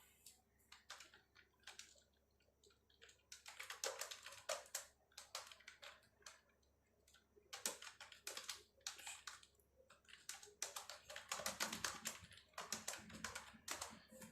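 Quiet, close typing on a computer keyboard while entering text in Excel, bursts of rapid clicking keystrokes separated by short pauses, in a still room.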